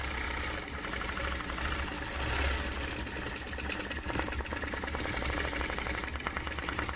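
A sewing machine stitches a circle guided by a ruler, a fast, even mechanical rattle of the needle running continuously and close up, with no talking.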